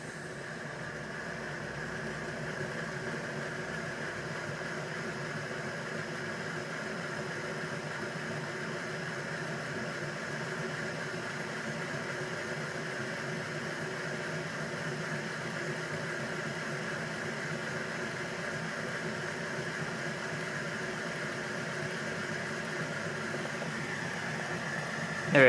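A Hornby LNER A1 'Flying Fox' model locomotive runs with a steady, even motor whir and hum that holds at low volume and builds slightly toward the end.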